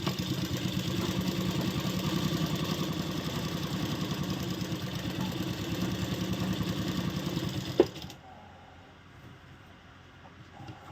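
A sewing machine stitching fabric along a marked line, a steady fast mechanical whir that runs evenly for several seconds, then stops abruptly with a click, leaving quiet.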